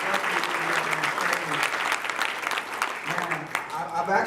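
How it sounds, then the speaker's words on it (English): An audience applauds during an acceptance speech at a company event, with dense, steady clapping throughout at fairly close range and no clear gaps. "just give yourselves a round of applause one more time"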